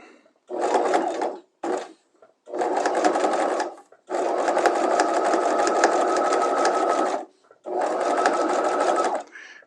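A sewing machine stitches a patch pocket onto fabric in several loud, steady bursts of rapid motor-driven whirring, separated by short pauses, the longest run lasting about three seconds. A voice speaks briefly.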